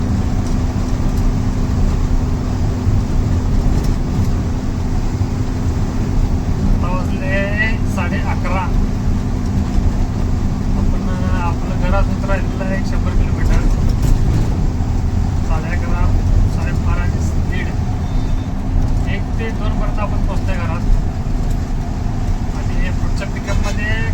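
A loaded pickup truck drives along a quiet four-lane road near Solapur, a constant loud engine drone and road rumble throughout, with someone talking over it.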